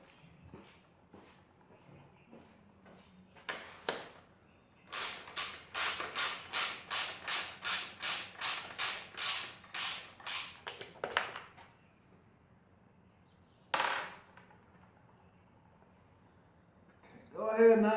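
A ratchet breaks loose a bolt on a Honda Grom during a carburetor conversion, a run of about a dozen rhythmic clicking strokes, close and clear, with a few isolated clicks and knocks before and after.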